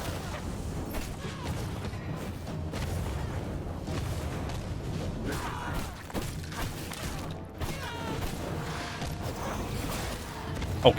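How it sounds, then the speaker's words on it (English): Boss bomb explosions in the vampire survival game V Rising, repeated booming thuds and rumbling blasts over a low mechanical drone, dense and loud throughout with a sharp hit at the end. "My character landed right into the explosion"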